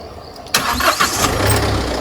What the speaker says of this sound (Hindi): फर्स्ट गाड़ी स्टार्ट की जाएगी